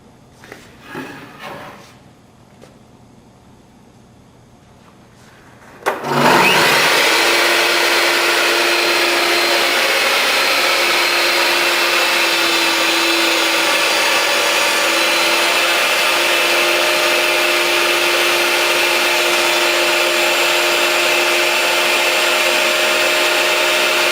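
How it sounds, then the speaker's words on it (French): A table saw starts up abruptly after a few quiet seconds, then runs loud and steady with a high whine, cutting continuously through a piece of wood without pause. "je vais venir passer la pièce de bois, puis je vais passer complètement à travers la scie"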